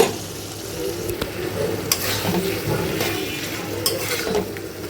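Washed dried fish frying in a thick curry in a pan, a steady sizzle with scraping stirs and a few sharp utensil clicks, close and continuous with no talk.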